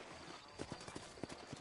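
Sturdy horses in Red Dead Redemption clip-clop in a quick, uneven rhythm of soft hoof strikes, moderately faint under a broad wash of background noise.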